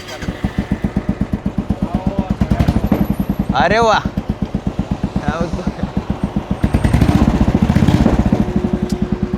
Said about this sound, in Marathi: साऊंड आपण ऐकूया या बाईकचा